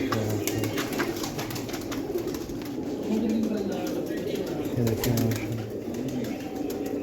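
Golden, pictured and spotted pigeons in a loft coo in low, repeated throaty rolls, several birds overlapping close by, while someone talks over them.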